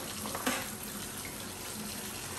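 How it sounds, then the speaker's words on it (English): Hot water runs from a kitchen tap over raw meat being rinsed in the sink, a steady close hiss of flowing water with a brief splash near the start and no talk. "I'm just rinsing off my meat."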